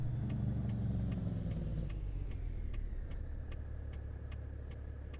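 Truck engine idling in the video game Euro Truck Simulator 2, a steady deep rumble with a slowly falling tone, alone and close, with faint regular ticking pulses over it.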